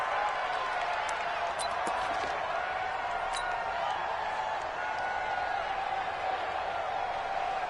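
Steady, dense crowd roar of a football game at Arrowhead Stadium in a video game, a continuous wash of noise with a few faint sharp claps and thuds on top.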